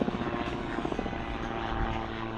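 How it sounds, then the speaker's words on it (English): Calidus tandem two-seat autogyro with a 115 horsepower Rotax 914 engine flying at an air show, a steady droning engine and rotor roar with rhythmic chopping pulses, continuous and fairly loud. "It's a Calidus with a Rotex 914, 115 horsepower engine."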